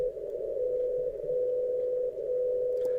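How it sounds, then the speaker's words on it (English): Steady carrier tone from the 60 kHz time signal transmitter in Boulder, Colorado, received on an AirSpy HF+ radio, droning continuously at moderate loudness with slight dips, alone without speech. "you can hear the 60 kilohertz transmitter from Boulder, Colorado. It's not Morse code. It's a binary coded decimal."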